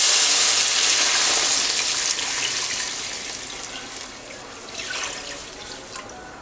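Milk poured into a hot pan that has just fried dry fruits gives a steady liquid rush and sizzle, loudest at first and then easing into a softer bubbling with a few splashes.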